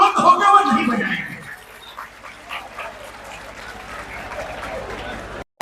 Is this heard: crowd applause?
yes